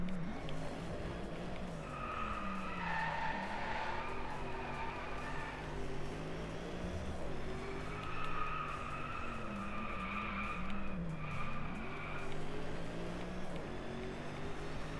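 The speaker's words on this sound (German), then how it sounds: "Wir bremsen schon mal." A race car in the Driveclub racing game brakes hard, with sustained tire skidding and screeching over a steady engine drone, squeals swelling twice across the stretch with no talk.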